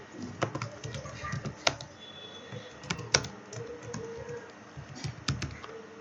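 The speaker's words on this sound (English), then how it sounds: "you can press backspace and write your text" Soft typing on a computer keyboard while editing text, scattered key taps and a few louder clicks under a faint room hum, no talking.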